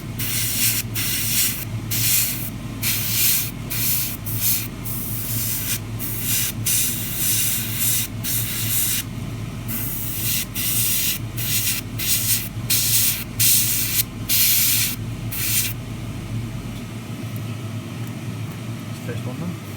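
Spray paint hisses in repeated short bursts over chassis parts of a 1:24 Tamiya Ferrari LaFerrari model kit. The bursts are close and loud, a voice talks quietly underneath, and the spraying stops near the end.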